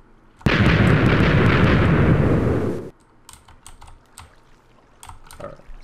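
A TNT cannon fires in Minecraft, video game, one loud sustained explosive burst lasting about two and a half seconds that cuts off sharply, followed by faint scattered clicks and pops.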